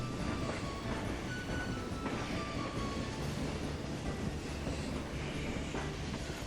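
In the Dark Cloud 2 video game, a train runs along a newly opened railroad with a continuous rumbling roll, faint wheel squeals and rhythmic clatter, steady and fairly loud with no talk over it.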